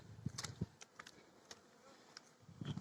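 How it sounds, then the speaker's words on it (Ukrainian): Bees buzzing close by, a soft continuous drone with individual insects swelling louder as they fly past. "наші бджоли роблять."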